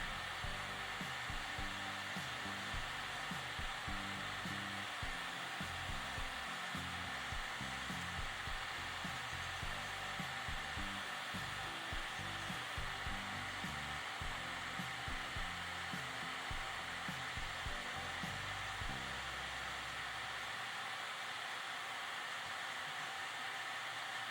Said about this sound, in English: the noise that you hear is from my dust collector